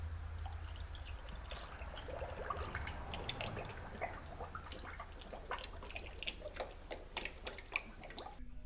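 Coolant gurgling and trickling as a GMC Safari van's cooling system is refilled, with irregular small bubbling ticks and drips over a steady low hum, fairly faint and close.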